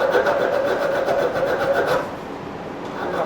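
A worn rat tail file rasps a notch into the edge of a hole in forged metal, giving steady rhythmic strokes close up for about two seconds before the scraping stops.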